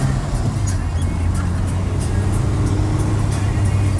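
A Suzuki Liana's engine pulls in first gear, a steady low droning hum with road noise inside the cabin that holds fairly constant throughout.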